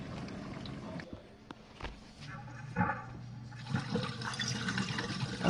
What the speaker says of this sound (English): So it just dispensed the rinse aid.